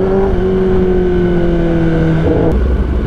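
A 2023 Kawasaki ZX10R sportbike fitted with an Austin Racing exhaust, its engine held at a steady loud rev with a sustained droning tone that dips and shifts near the end, close and alone with no talk.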